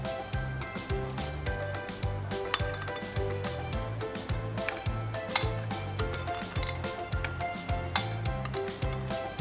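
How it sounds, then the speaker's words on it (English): Almonds clink and rattle against a bowl and spoon, a busy run of small hard taps and chinks close by. "Add the almonds into this."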